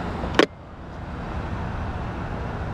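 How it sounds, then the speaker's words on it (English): A car passes along a road in a steady, moderately faint roadway rumble heard from a bicycle commute, preceded by a brief sharp click. "I'm gonna wait for a car."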